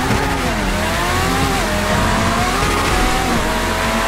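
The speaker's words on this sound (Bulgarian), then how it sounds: "Перфект бърнаут." In a racing video game, a car does a burnout with a loud engine held at high revs and steady, squealing tires throughout. No voices are heard.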